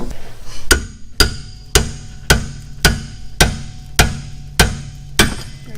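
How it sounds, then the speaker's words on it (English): A hammer strikes a part on a 1993 Mitsubishi 3000GT power steering rack again and again, giving eight sharp, evenly spaced metallic whacks roughly every half-second, loud and close, with no talking. "Just whacked it until it came loose."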